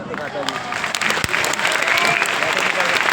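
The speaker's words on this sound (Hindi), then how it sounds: "इन लोगों की तालियों से इस बात का एहसास होता है" Sustained applause from a crowd, dense and steady clapping filling the space, fairly loud throughout with no pauses.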